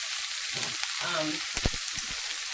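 Onions sizzle in a hot pan with a bright continuous hiss, broken by a few clunks and stirring knocks close by, no voice.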